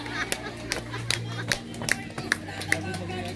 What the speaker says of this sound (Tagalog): Dalawa lang yung meaning ng palakpak na yan eh.